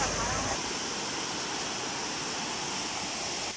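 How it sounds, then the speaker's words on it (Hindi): Cold mountain waterfall water flowing down from the peaks near Naran, a steady broadband rush that holds constant throughout, close and fairly loud, with no other sounds standing out. "ये जो पानी आपको नजर आ रहा है ये ऊपर से पहाड़ों से आबशार की सूरत में बहकर आ रहा है"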